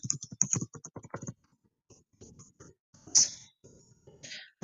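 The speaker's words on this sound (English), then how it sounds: "I'm going to input, or I'm going to type in," Someone types on a computer keyboard while entering code, with quick bursts of close key clicks, then short pauses, then more scattered keystrokes and a brighter clack near the end.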